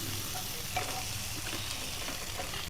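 Spices being stirred with salt and turmeric in a hot pan give a steady low sizzle with soft scraping, quiet and continuous, with no one talking.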